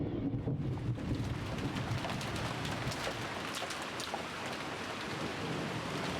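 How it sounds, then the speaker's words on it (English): Steady rain with rumbling thunder in a stormy scene from the Umineko visual novel game, a dense continuous downpour with low thunder rolls strongest early on, no voices. "The fierce lightning and rain"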